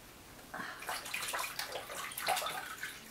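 Water runs from a tap and splashes as a charcoal clay face mask is rinsed off at a sink, a close, steady gushing flow with small shifting splashes and no voices.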